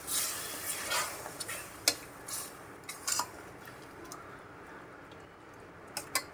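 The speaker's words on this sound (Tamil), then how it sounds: "நம்ம நல்லா கொஞ்சம் கலக்கி விட்டுறணும்" A spoon scrapes and clinks against a pan in irregular strokes, stirring chicken gravy, with a soft sizzle underneath; close and moderately loud.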